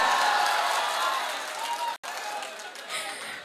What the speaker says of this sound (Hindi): बिस्वा मेरी बात की ताली बजाए।